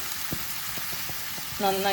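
Puréed tomato sautés in a pan, a soft steady sizzle with faint rhythmic taps of a spoon, before a brief tonal hum near the end.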